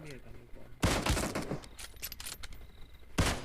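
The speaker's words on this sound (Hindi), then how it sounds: "इसको दो कार 98 के हेडशॉट पड़ते हैं और ये फिनिश हो जाता है" Kar98 rifle shots in the PUBG battle royale game: two loud, sharp reports about two and a half seconds apart, the first followed by a dense stretch of game noise and clatter.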